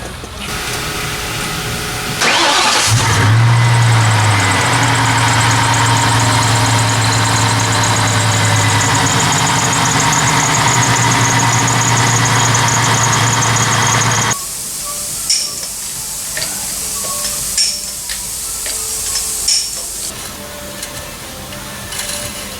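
A supercharged New Edge Mustang engine starts with a sharp crank, then idles loud and steady with a deep drone and supercharger whine for about twelve seconds before shutting off, leaving clanks and scraping handling sounds.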